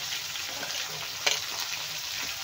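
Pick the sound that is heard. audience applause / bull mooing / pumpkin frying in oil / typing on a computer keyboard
pumpkin frying in oil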